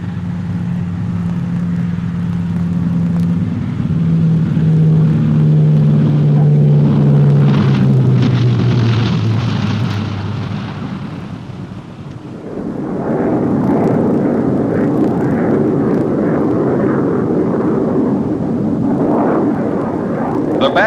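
A jet aircraft lands on the carrier HMCS Bonaventure, then powers up and takes off again, a loud roaring engine sweeping downward in pitch before fading, followed by a renewed, broader surge of jet noise.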